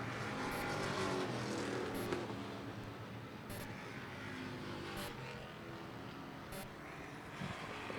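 Race cars on a dirt track during a race roar past at a distance, a continuous blended engine drone that swells and fades across the whole stretch.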